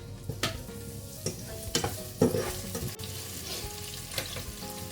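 Onions browning in a pan for lumpiang togue, a steady close sizzle with intermittent utensil taps and scraping strokes, heard without voices.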